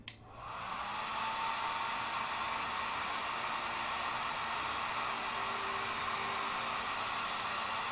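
A hair dryer runs steadily to dry paintbrush bristles at a hobby crafting bench, switching on with a brief click and then holding one loud, even whoosh for the whole stretch with no talking.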